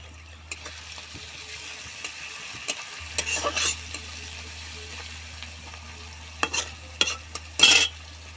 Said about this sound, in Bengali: আদা রসুন পেঁয়াজ ভালো করে মিক্স করে নেব।